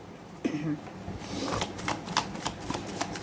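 Tarot cards are shuffled in the hands: a few soft slides at first, then a quick run of crisp riffling flutters and taps, close and fairly quiet, with no talking.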